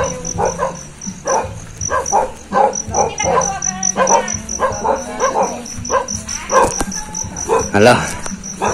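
A pack of dogs barks insistently, overlapping yips and woofs nearby, in farmland in Alaminos, Pangasinan, while a person briefly speaks and crickets chirp steadily behind.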